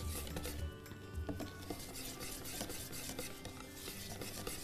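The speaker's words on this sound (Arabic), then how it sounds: "نخلطه تمام لحتى كل التكتلات الطحين تروح معي" Pancake batter stirred by hand with a utensil in a bowl to break up flour lumps for cinnamon-roll pancakes, giving close, uneven scraping and clinking strokes that repeat irregularly at moderate volume with no talk.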